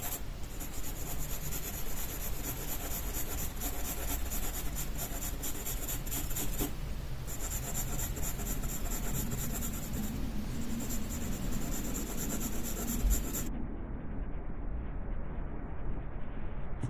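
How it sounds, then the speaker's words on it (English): A graphite pencil shades a koi fish drawing on paper with gentle pressure, building layered strokes into a steady, close scratching and rubbing that continues almost throughout and stops near the end. "we are going to carefully shade this particular fish using a graphite pencil, applying gentle pressure and layering the strokes"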